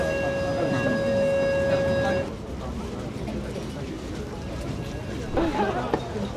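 An Istanbul tram rumbles along with a steady electric whine for the first two seconds, then settles into a softer rolling hum under a person talking.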